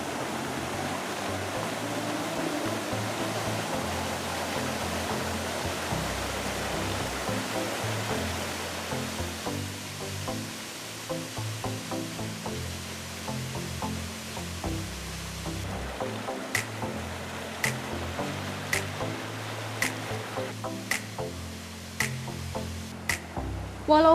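Steady broadband rush of the Gondang waterfall pouring continuously, with rhythmic clicking taps over the final stretch.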